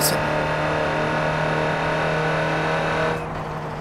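A turbocharged DHL delivery van in the racing game Forza Horizon 4 drones at full throttle, a loud steady engine hum that drops slightly in level near the end.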